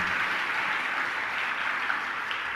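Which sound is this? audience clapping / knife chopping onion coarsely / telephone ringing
audience clapping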